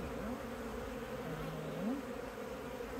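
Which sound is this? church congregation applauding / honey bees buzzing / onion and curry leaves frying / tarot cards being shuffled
honey bees buzzing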